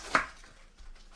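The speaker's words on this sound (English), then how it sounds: "it's really about just finely chopping the cabbage" A knife strikes a cutting board once while finely chopping cabbage for sauerkraut, a single close, crisp thunk followed by faint quiet clatter.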